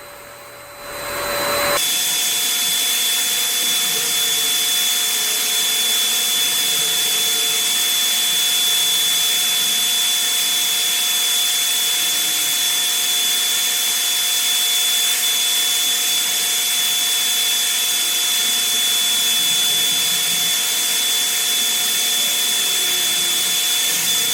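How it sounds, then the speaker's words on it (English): An Earlex 5500 paint sprayer sprays primer onto a dresser and changing table build, a steady whining turbine roar that starts abruptly and runs loud and unbroken at close range. "I'm using my Earlex 5500 sprayer"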